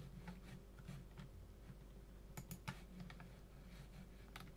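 Computer keyboard and mouse clicks while working in Blender's tracking mode, a quick scatter of close, light taps and a few sharper clicks, with no voice over them.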